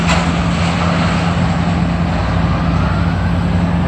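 A Detroit Diesel engine runs at a loud, steady roar beside the demolition of the old Montreal Children's Hospital, a continuous near drone with a low hum and no breaks.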